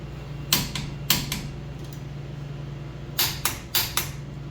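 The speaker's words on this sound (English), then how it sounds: "I'm going to torque these lower strut bolts or strut nuts to about 100 foot-pounds" A torque wrench tightening the lower strut bolts on a 2005-2009 Hyundai Tucson front strut to about 100 foot-pounds: two pairs of sharp metallic clicks, a pause, then four more close clicks over a low steady hum, with no talking.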